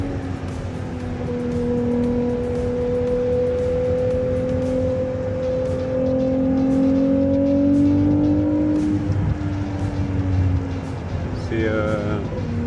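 A Ferrari 296 GTB laps the wet 24 Hours circuit, its engine droning loud and steady from inside the cabin, the pitch slowly climbing before a shift near the end, with a voice talking over it.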